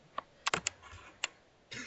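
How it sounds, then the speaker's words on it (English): Typing on a computer keyboard indoors, heard as a handful of sharp, separate keystroke clicks at an uneven rhythm, fairly close and quiet, followed by a brief rustle, with no talk. "very much like your typing. Yeah. Which happens to be very loud in my ears."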